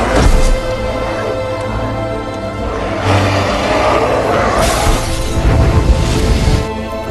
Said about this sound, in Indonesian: Dr. Neville pun meledakkan dirinya bersama para Dark Seeker yang ada di rumahnya dengan granat.